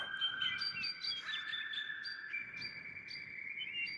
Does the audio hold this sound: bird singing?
yes